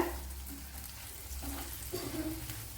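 Sliced onions fry softly in a pan for a brinjal thokku curry, a faint low sizzle with a few light stirring scrapes.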